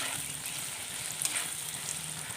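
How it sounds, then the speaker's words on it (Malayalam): Grated mango ginger stirred and frying in a hot pan, giving a steady soft sizzle with faint scraping, fairly quiet and without talk. "അതുവരെ ഇളക്കി കൊടുക്കുക നന്നായിട്ടൊന്ന് മൂത്ത് വരട്ടെ"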